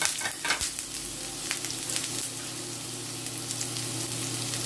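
Garlic and onion, with ginger, frying in a hot pan, giving a loud, dense, continuous sizzle close by with a few brief scrapes early on and no talking.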